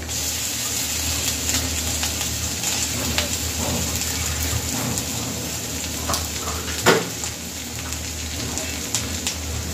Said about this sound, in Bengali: পেঁয়াজ মরিচটা ভালো ভাজা হয়ে গেছে, এবার আমি দিয়ে দেবো একটু আদা রসুন বাটা।